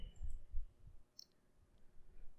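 Faint, sparse computer mouse clicks, a handful of light taps spread over a couple of seconds, come from someone working in SolidWorks CAD software in a quiet room.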